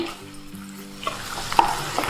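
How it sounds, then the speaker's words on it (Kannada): Stirring green gram and ridge gourd in a hot tempering pan, a soft sizzle with scraping spoon strokes that grow busier partway through, close by with no talk. "ಇವಾಗ ಇದನ್ನು ಒಂದ್ಸಲ ಒಗ್ಗರಣೆಗೆಲ್ಲ ಚೆನ್ನಾಗಿ ಮಿಕ್ಸ್ ಮಾಡ್ಕೊಂಡ್ಬಿಡ್ತೀನಿ"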